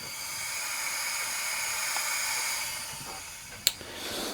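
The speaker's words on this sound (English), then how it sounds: "I can hear sounds of steam rising" Steady faint hiss of steam building in the boiler of a scratch-built Mamod-style model steam engine with its burner alight, a soft continuous rushing with a brief small tick near the end.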